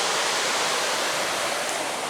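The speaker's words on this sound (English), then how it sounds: "This is where the Prince Brook crossing is." Water rushing steadily over rocks in Prince Brook at a crossing beside an old gravel road, a dense, continuous close-up flow with no pauses.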